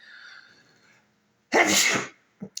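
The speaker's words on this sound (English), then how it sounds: "excuse me, I'm going to sneeze" A single loud, sharp sneeze bursts out after a brief quiet stretch, followed by a short sniff.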